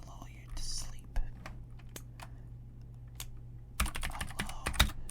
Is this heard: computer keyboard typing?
yes